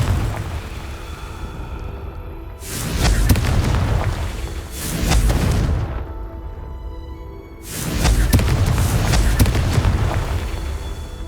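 Confringo fire spells explode in the video game Hogwarts Legacy: three heavy, booming blasts a few seconds apart, each bursting loud and close, with a low rumble lingering between them.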